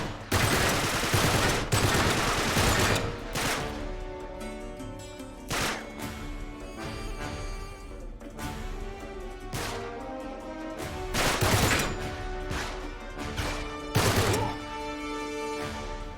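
Heavy gunfire in the video game Uncharted 3, loud bursts of shots and blasts in irregular clusters with dense volleys near the start and sharp single cracks spaced through, no speech.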